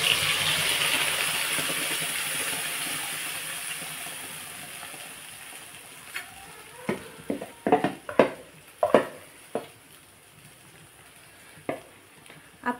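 Ground masala paste dropped into hot oil for a chicken curry, setting off a loud, broad sizzle that fades over several seconds, followed by a run of sharp ladle scrapes and knocks against the pan.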